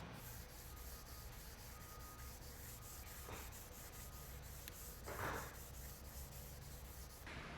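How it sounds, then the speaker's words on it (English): Steady abrasive rubbing of a sanding block on a polyester piano finish during repair, continuous back-and-forth scraping with a few brief louder swipes, no voices. "Now we'll move on to sanding with our block."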